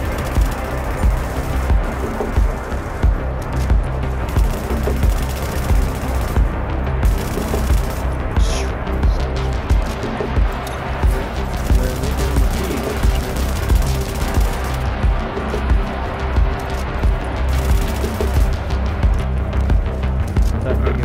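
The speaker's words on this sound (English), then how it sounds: "Assault rifle hits hard" Sustained automatic assault rifle fire in the video game The Division, loud and dense bursts running almost continuously over a steady background, with occasional brief pauses between volleys.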